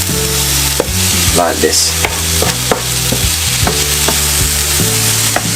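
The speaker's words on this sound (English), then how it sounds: "So you want to take your time and just fry it" Cabbage being stir-fried in a pan gives a loud, steady sizzle, with repeated scraping and clacking from stirring throughout and a brief spoken remark.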